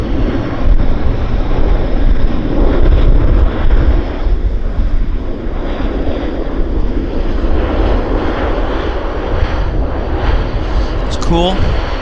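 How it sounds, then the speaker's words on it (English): A fixed-wing airliner roars down the runway on its takeoff roll at Vancouver airport, a loud, sustained engine rumble with wind buffeting the microphone, steady throughout with no voices over it. "Clear for takeoff, runway 26 left."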